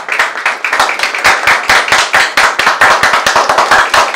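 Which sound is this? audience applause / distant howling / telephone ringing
audience applause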